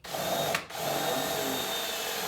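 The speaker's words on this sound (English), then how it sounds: "I'm going to make a couple holes with a wood bit" A power drill with a wood bit bores holes into wood trim for screws, a steady close whine running almost throughout with one brief dip early on.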